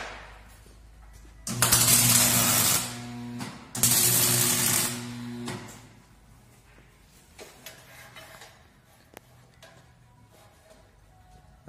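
Tack welding on a tubular sliding gate, two loud crackling buzzes of a couple of seconds each with a brief gap between them, followed by quieter workshop noise and no talking.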